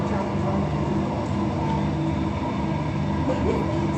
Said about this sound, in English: And, train just left.